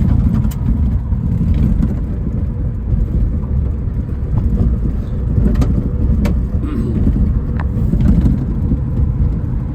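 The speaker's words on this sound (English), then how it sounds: "There's the tires burning." 1936 Ford resto-mod pickup with an LS3 6.2 engine doing a burnout, a loud sustained low engine roar with rough rumble and scattered sharp crackles, close and continuous.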